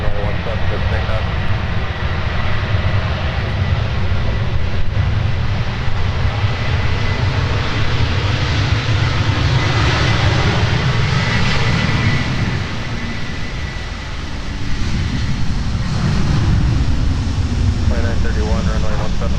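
A Delta airliner takes off from runway 17 at Minneapolis–St. Paul airport, a steady roaring jet engine rumble heard from a distance with no break, while radio voices talk over it at times.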